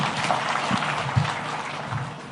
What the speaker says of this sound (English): One more round of applause for His Excellency.